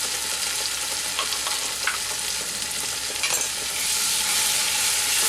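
Tomato paste frying for shahi paneer, a loud steady sizzle close up with continuous stirring and scraping in the pan, the hiss swelling louder toward the end.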